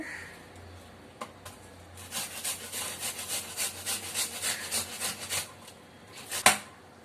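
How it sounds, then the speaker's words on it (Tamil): Watermelon rind being grated by hand for halva, a steady run of rhythmic rasping strokes that come close and fairly loud after a couple of quiet seconds, ending with a sharper knock. "இதே போல் அப்படியே துருவி எடுத்துக்கலாம்"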